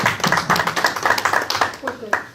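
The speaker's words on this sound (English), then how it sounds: "Let's give him a round of applause for being here." Brief round of applause for a departing judge at a public meeting, scattered hand claps close by over a murmur of voices for a couple of seconds.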